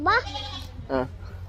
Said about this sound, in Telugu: మేక పిలుస్తుంది మనల్నేనా నిన్ను పిలుస్తుందా నన్ను పిలుస్తుందా